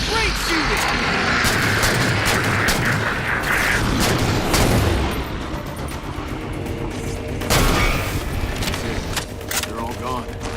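Rapid bursts of gunfire in a Halo 4 campaign firefight against incoming enemies, with loud repeated shots and impacts running throughout, while voices call out over the shooting.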